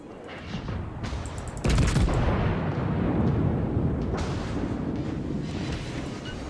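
Battleship turret guns fire in a naval video game: a sharp blast lands partway through, then a heavy, sustained rumbling roar carries on loudly to the end, with no one talking.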